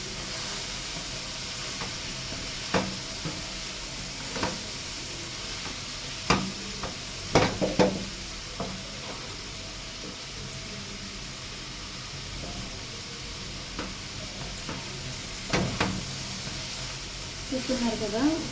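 A pan of Telugu-style bitter gourd curry with chopped tomato is stirred, giving a steady low sizzle with scattered scraping clinks of the spoon over the pan. The stirring knocks cluster into bursts, and faint background noise runs underneath.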